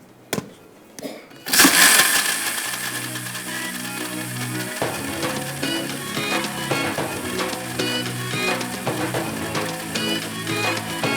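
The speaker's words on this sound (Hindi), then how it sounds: "अब चलेगा ब्लेंडर, ठीक है, और सारी चीज़ें इसमें हो जाएंगी मिक्स।" A kitchen blender starts after a few clicks and runs continuously with a loud, steady whirring grind, close up, blending milk with dates.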